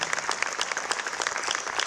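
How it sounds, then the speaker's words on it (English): Audience at a ribbon cutting for the Urban League North Spring Community Center applauding, a brief burst of even, fairly soft clapping from a modest crowd. "Please give him a big round of applause."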